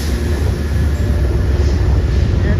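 A commuter train pulls into Croton Harmon station in New York and slows to a stop, a steady close rumble of wheels and carriages filling the whole stretch without talk.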